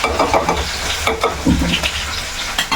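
Crushed ginger and garlic sizzle in hot oil with popped mustard seeds for a Kerala-style curry, a loud close crackle broken by stirring scrapes, with no talking.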